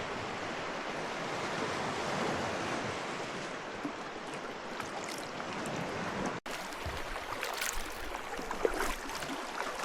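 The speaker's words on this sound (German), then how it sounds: "Das sind gerade die Wellen hier von der Fähre." Waves from a passing ferry's wake break on a Norwegian fjord shore, a continuous rushing surf with wind buffeting the microphone, a brief dropout midway, then sharper splashes and rolling water.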